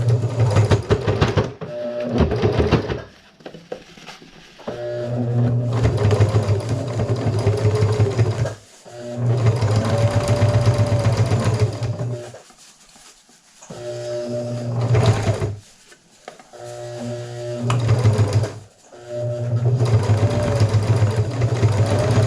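A sewing machine stitches seams on a batik quilt in repeated bursts of rapid mechanical chatter, starting and stopping several times with quiet pauses between runs.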